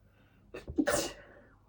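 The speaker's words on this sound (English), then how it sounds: "I'm gonna sneeze." A single sharp sneeze, a short inhale followed by a burst, close to the listener.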